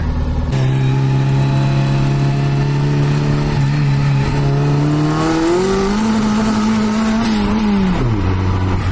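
A turbocharged Mazda Miata drives along with its engine droning loud and close, then revs upward in a rising pitch before easing off near the end. No voices are heard.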